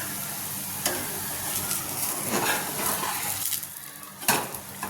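A bottle gourd snack frying in a pan, with a continuous soft sizzle and a few sharp clinks of a utensil against the pan, no talk.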